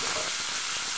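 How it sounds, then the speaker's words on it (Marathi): Finely chopped tomatoes hit onions frying in hot oil in a pan, setting off a steady, close, hissing sizzle that fills the whole brief moment. "आता यात आपण बारीक चिरलेले टोमॅटो टाकून घेऊ."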